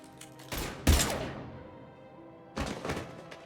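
Gunfire in the video game Mass Effect 3: a burst of shots opens with a heavy thump and rings out before fading, then a second volley follows after a short pause, no voices.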